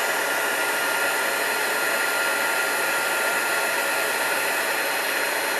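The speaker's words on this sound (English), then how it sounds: "I love heat embossing and watching that powder just become molten." A heat gun blows a steady, loud, unbroken hiss while melting embossing powder, the airflow roar constant throughout with no talk.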